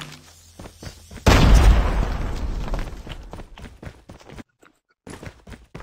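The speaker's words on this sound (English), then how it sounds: "Grenade out." A grenade blast in Call of Duty Mobile erupts as a sudden loud, broadband boom with a long decaying rumble, followed by scattered game clicks and small impacts.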